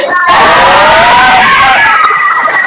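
A classroom of students shouts the 'tepuk semangat' cheer together, a loud, sustained burst of young voices that fills the room with close, excited yelling.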